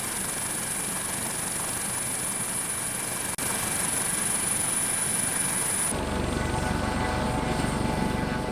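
Helicopter engine and rotor noise at an offshore oil platform, a steady broadband roar with a high whine, fairly distant and continuous, shifting character partway through.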